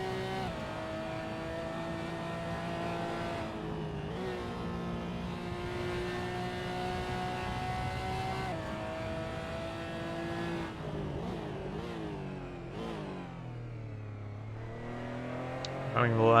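Porsche Cayman GT4 race car in a racing video game at Sonoma, its engine droning steadily at high revs with rising and falling pitch through gear changes and corners, loud and continuous throughout.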